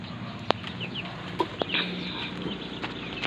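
Brahma chickens cluck close by in a farm setting, giving a few short, irregular clucks and chirps over a steady background murmur, with no voices.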